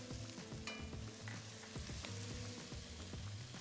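Carrots and chopped garlic fry in a Le Creuset Dutch oven, a soft steady sizzle broken by repeated clinks and scrapes of stirring, close and quiet with no voices.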